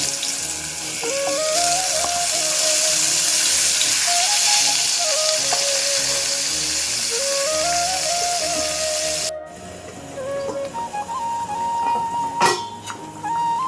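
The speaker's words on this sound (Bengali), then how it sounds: "একই তেলে আমি কুমড়োগুলো ভেজে নেব" Pumpkin pieces coated in salt and turmeric fry in the same oil in a pan, giving a steady loud sizzle through most of the clip that later drops to a quieter spitting with a brief clatter.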